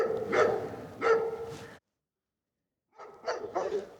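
A dog barks in short, loud bursts, two sharp barks, then a pause of silence, then a quicker cluster of three more barks close by.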